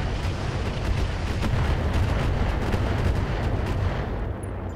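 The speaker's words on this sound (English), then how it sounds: "Let's start firing on this Marauder and strip more armor off." Mech weapons in the RogueTech video game pound a Marauder in a dense, continuous roar of heavy fire and rumbling blasts, loud and sustained throughout with no voices over it.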